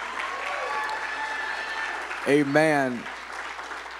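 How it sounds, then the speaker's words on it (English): A church congregation at a Sunday service in Thomasville applauds their pastor, a steady wash of clapping throughout, with a voice briefly speaking loudly over it near the end. "Come on, let's clap for him."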